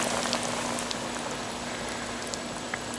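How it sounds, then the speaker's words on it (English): Chicken fries in hot oil over a wood-fired biomass stove, sizzling and crackling steadily with scattered pops, a constant frying hiss at moderate level with no voices. "Frying over a wood fire,"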